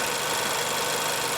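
A manual 2016 Nissan Grand Livina SV engine runs steadily at idle, with a dense, even mechanical hum and faint knocking texture, heard up close with no talking.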